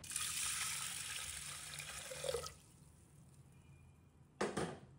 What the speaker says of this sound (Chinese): 将洗净的红豆倒入高压锅里面，倒入清水